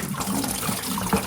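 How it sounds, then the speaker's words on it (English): Coolant trickles and splashes out of disconnected hoses on a Porsche Boxster 987.1 during water pump and thermostat work, a soft, continuous liquid gurgle close by with small splashy bursts. "Let the coolant drain for a bit so that it doesn't splash you while you're working"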